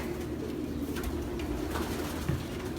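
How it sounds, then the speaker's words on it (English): Young pigeons in a loft on a hot day cooing softly and steadily at a low level, with a faint continuous room murmur underneath and no talking. "It's a younger pigeon"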